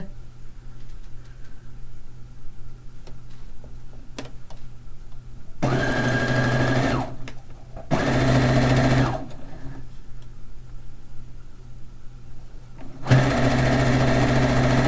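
A sewing machine stitches a fish quilt in three bursts of steady, rapid whirring, separated by quiet pauses with faint handling noises.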